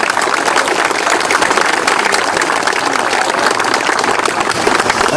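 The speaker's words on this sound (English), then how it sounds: "Would you join me in a round of applause for their hard work?" Dense, steady applause from a crowd gathered outdoors for a 2014 memorial service on a New Bedford common park, a continuous wash of clapping that holds at an even level throughout.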